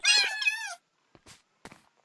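A short, clear cat meow with a falling pitch from a player in Minecraft Skyblock, followed by two faint brief clicks in near silence.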